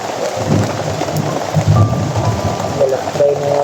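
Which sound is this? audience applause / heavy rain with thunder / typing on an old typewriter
heavy rain with thunder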